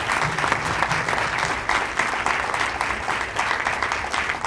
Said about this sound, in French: j'aimerais qu'on puisse les applaudir chaleureusement